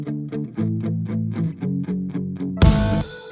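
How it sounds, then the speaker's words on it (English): Electric guitar runs through a Blues Fuzz amp-simulator preset, double-tracked left and right, playing a steady rhythm of distorted chord stabs, loud and close, then ending in a sudden brighter, noisier burst. "So I'm just using this Blues Fuzz preset with a couple little tweaks."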